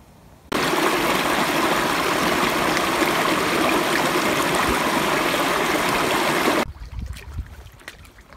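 Spring meltwater streams rush through woods still patched with ice and snow toward the St. John River, a loud, steady, close water roar that stops abruptly near the end, leaving quiet outdoor ambience.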